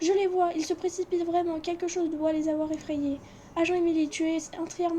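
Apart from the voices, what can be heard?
No distinct noise like a dog, phone or traffic.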